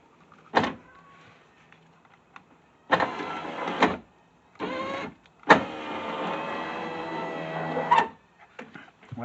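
A Subaru driver's door power window motor whirs in several separate runs during a window repair: short bursts, then one long steady drone of about two and a half seconds, each start and stop sharp against near silence.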